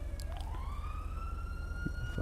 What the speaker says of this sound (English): Okay, there's one siren.